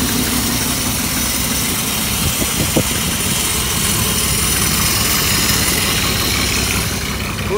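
An old wrecker truck engine runs at a steady idle, a loud continuous low rumble with a brief knock partway through and no voices.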